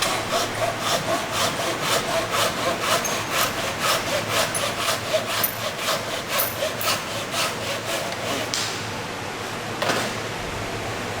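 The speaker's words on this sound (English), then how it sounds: "Cut down the skating board in the miter box and check that the joint is acceptable." A handsaw cuts skirting board in a miter box with rapid, even back-and-forth rasping strokes. The close, loud sawing runs steadily for about nine seconds before the strokes stop and the sound trails off into quieter scraping.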